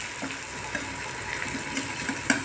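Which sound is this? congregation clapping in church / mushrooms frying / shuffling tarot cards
mushrooms frying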